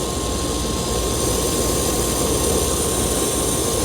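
An oxy-fuel brazing torch flame being tuned for 3/4 inch copper on a condensing unit roars as a loud, steady, unbroken rush of broadband noise with no voices.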